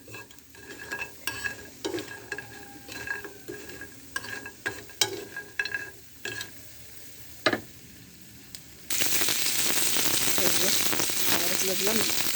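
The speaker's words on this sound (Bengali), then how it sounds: "শালগমের বড়ি ভেজে নিচ্ছি।" Turnip lentil dumplings fry in oil with repeated metal stirring clatters and taps over a light sizzle, then a sudden loud, dense crackling hiss takes over for the last few seconds.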